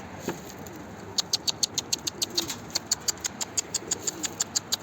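Homing pigeons in flight, likely a stray white-tailed bird, give a steady run of sharp, evenly spaced wing claps or flaps, close by and fairly loud over faint outdoor background, with a low pigeon coo near the start.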